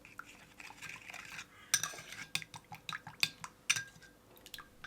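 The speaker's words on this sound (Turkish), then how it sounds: "Şöyle sıcak suyla salçamı iyice dağılana kadar çırpıyorum" A whisk or spoon clinks repeatedly against a bowl while pepper paste is beaten with hot water, a rhythmic series of sharp metallic taps over faint liquid sloshing, close and quiet, with no speech.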